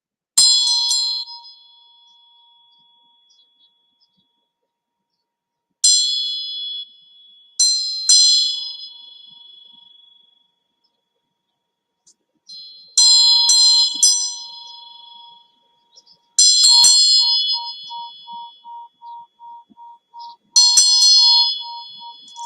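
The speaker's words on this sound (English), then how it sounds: "I'm just going to ring the bell." A bell rung during a live tarot reading session, struck six times at intervals, each bright, ringing tone sounding close and clear before decaying slowly, with some strikes given a quick wobbling shimmer and quiet pauses between them.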